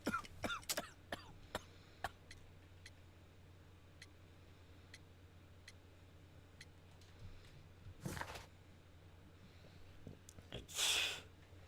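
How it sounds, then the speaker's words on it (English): Several short, sharp coughs from a character in a Sherlock Holmes video game, followed by a longer harsher burst near the end, over a low steady hum. "You have a severe cough."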